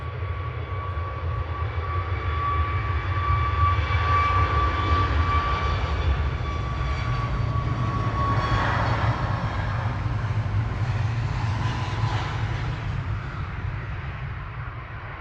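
A Boeing 737 MAX 8 jet, registration EI-ALP, roars steadily at Manchester Airport, a loud sustained engine rumble with a high whine that swells and slowly shifts as the aircraft passes.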